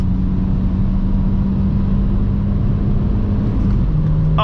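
A VW car's engine pulling hard in first gear, with a steady loud drone and rumble throughout and no talk over it.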